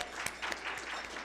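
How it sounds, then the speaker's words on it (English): Audience applause at a Champions for Inclusive Health community meeting, a short burst of steady clapping from a room of people, fairly close and alone without talk. "Let's give her a round of applause."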